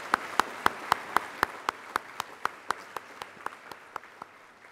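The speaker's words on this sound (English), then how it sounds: "Let's give all of our students a big round of applause." Crisp hand claps land in a steady, evenly spaced rhythm, about four per second, gradually softening toward the end, as an audience applauds students at a volunteer awards program.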